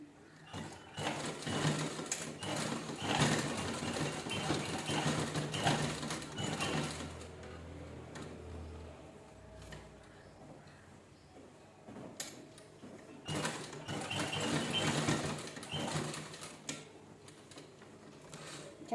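Sewing machine stitching a bag made from an old shirt, running a locked seam along the edge. A busy, close mechanical rattle runs steadily, eases off briefly in the middle, then resumes just as strongly.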